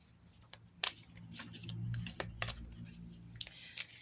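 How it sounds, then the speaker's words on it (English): A deck of butterfly affirmation cards is shuffled by hand, giving several quick papery riffles and flicks in irregular bursts, close and fairly soft. "let's give these a shuffle"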